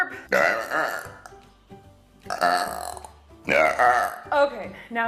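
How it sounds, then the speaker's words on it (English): A woman lets out long, loud, drawn-out burps close to the mic, three big ones in a row with throaty, croaking tone and short pauses between. "I feel like I have a burp"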